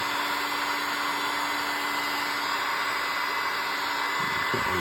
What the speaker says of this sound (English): Got my heat gun here. Crank it up to 500 degrees.